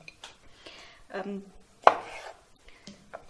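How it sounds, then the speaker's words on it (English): Several sharp knife cuts against a board halving baby tomatoes, spaced irregularly with short pauses, one noticeably louder snap in the middle, close and fairly quiet. "I am just halving my baby tomatoes."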